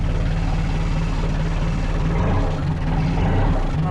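Isuzu NPR 4x4 truck engine with a custom exhaust stack and exhaust leaks, a loud, steady, throbbing drone with a strong low rumble, close up throughout.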